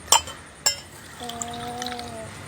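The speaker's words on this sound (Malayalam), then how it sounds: "ഗ്ലാസ്സിലൊന്ന് ഒഴിച്ച് കൊടുക്കാം" Water is poured into a glass after two sharp clinks of glassware, with a short, faint trickling fill that rises in pitch and then tails off.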